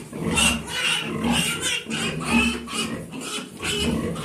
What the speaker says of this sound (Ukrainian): Як я прийшла до сараю годувати наші свиноматочки.